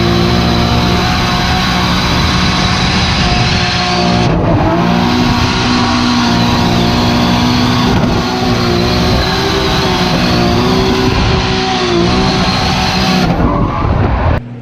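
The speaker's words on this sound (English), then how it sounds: "I was enjoying staying on the limiter as long as I could" Drift car with a 2JZ engine held on the rev limiter, a loud, close, continuous buzzing wail that chatters against the cut for nearly fifteen seconds, with brief dips and tire noise.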